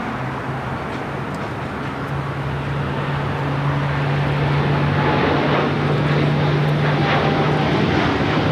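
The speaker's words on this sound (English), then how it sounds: "We do have a heavy now rolling down 25 right. Looks like another United Dreamliner." A United Boeing Dreamliner heavy jet rolls down runway 25 right at LAX, its engine roar and steady hum building louder over several seconds from a moderate distance, with no speech.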